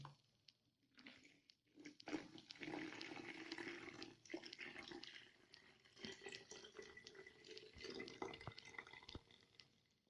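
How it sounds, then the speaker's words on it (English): Water pours and trickles into a bottle in uneven bursts for cold brew coffee, with small drips and clinks, close by and fairly quiet. "Then pour the water into this bottle."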